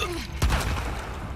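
A single sharp gunshot in the video game The Last of Us Part II, a hard close crack with a short booming tail, following a brief rising tone.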